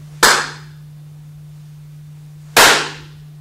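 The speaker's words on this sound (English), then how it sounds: "I'm going to do is clap my hands in each room and we're going to listen to the room" Two sharp hand claps in a studio live room, a couple of seconds apart, each a crisp close crack with a short bright ring-out decaying into the room over a steady low hum.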